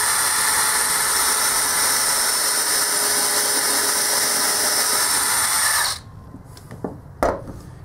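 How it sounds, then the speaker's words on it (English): A power drill runs steadily and loudly while pre-drilling a screw hole in wood for a small folding table leg, then stops abruptly, followed by a few faint knocks and handling sounds. "So we'll pre-drill that."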